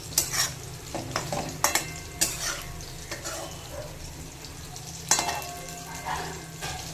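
Eggplant, tomato and potato sizzle steadily in a pan for Bengali mourala fish chorchori, broken by repeated scraping stir strokes at irregular moments. No one speaks.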